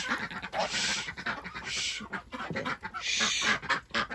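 Ducks in a backyard flock making a busy, noisy courting ruckus of repeated quacks and calls, loud and close, in overlapping bursts across the whole stretch.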